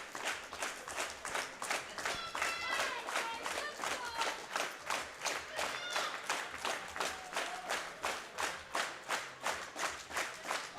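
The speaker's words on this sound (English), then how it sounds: "The crowd keeping the claps going." At a world classic powerlifting championship, the crowd keeps up rhythmic unison clapping, a steady beat of loud claps with brief cheers and a commentator's voice underneath.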